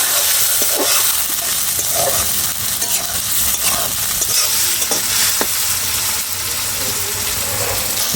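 Chopped onion and tomato frying in a pan for a tilapia and bean curry, a steady close sizzle with occasional stirring scrapes and light clinks, no talking.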